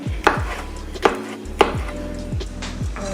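A knife chops through tom yum soup vegetables on a cutting board, halving them for vegan tom yum soup: four sharp, evenly spaced knife strikes, each closing with a ringing board knock, close up with no talking.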